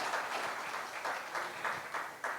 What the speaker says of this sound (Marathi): यासाठी जोरदार टाळ्या ठाणेकरांसाठी.